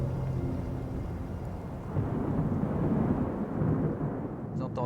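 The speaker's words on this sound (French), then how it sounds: "Vous entendez, on dirait des grands coups de tonnerre." Deep rumbling of Arctic fjord ice, like rolling thunderclaps, a broad low roar that swells and holds steady, with a few faint cracks near the end.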